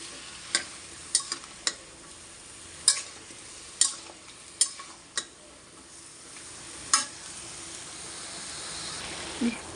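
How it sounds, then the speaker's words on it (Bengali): Spiced free-range chicken being stirred in a pot, with a faint, steady frying hiss underneath and a series of sharp spoon scrapes and knocks, roughly one every second, with no talking. "এখন ভালোভাবে নেড়ে নেড়ে নেব দিয়ে ভালোভাবে কষিয়ে নেব"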